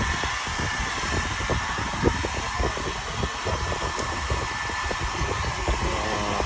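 A steady, broadband whoosh of a blower or dryer runs throughout, with faint clicks and rustles underneath.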